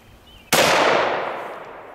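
One sharp, loud shot from a .357 Ruger LCR revolver loaded with Hornady Critical Defense ammunition, fired outdoors at a bowling pin, cracks after a quiet moment and then rings away in a long fading echo.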